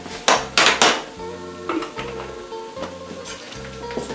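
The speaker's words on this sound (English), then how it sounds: "Gotta stir my vegetables so they don't burn" Vegetables stirred in a pan while cooking meatballs and marinara, a utensil clattering and scraping against the metal in a run of close, sharp knocks and rattles with a low background hum.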